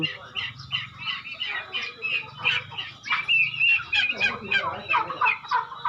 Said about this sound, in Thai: ไก่งวง ไก่งวง